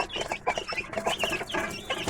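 A hen and young Aseel chicks cluck and peep repeatedly at close range while feeding, a busy run of short calls with no talking.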